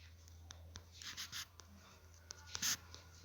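Faint scratching of a pen writing out a geometry formula for a sphere's curved surface area, with a few short strokes and taps over a low steady hum in a quiet room.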